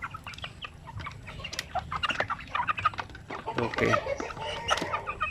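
Native Filipino chickens cluck in a busy chorus of short, repeated calls close by, with a brief spoken word partway through.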